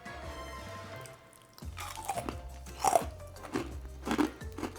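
Freeze-dried Jolly Rancher candies bitten and chewed up close, several loud, brittle crunches in a row after a quiet start, with no talk.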